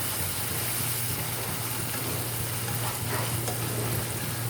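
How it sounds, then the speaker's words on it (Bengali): Spice paste with salt, turmeric and chili powder sizzles and is stirred in a hot pan, a loud continuous frying hiss with no speech over it. "মশলাটা ভালোভাবে কষিয়ে নিতে হবে"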